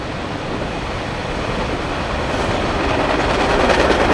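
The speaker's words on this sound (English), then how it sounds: "Our first train here is a southbound coaster." A southbound Coaster commuter train rolls past along the beach, a steady broad rumble of wheels and rushing air that builds slightly louder as it nears, with no voices.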